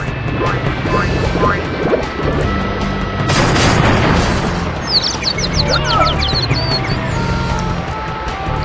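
Explosive TNT crates blowing up in Crash Bandicoot 2 during a boss round, a loud crashing blast with a burst of debris noise over a steady game music bed, followed by chirpy bird-like effects.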